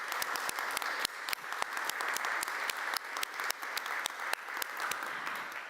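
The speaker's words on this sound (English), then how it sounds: "Please give them a round of applause." A crowd claps steadily in sustained applause at a leadership breakfast event, many hands at a moderate distance, with a few sharper individual claps standing out.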